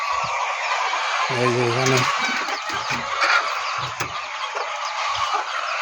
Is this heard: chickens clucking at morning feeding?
yes